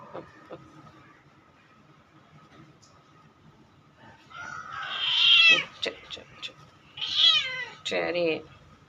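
A pregnant female cat yowls and meows loudly indoors in several drawn-out, wavering cries close to the listener, after a quieter stretch with faint background noise.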